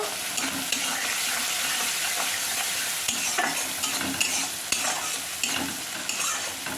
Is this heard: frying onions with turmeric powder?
yes